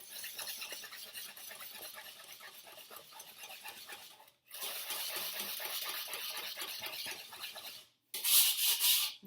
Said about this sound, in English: So mix together really well your eggs,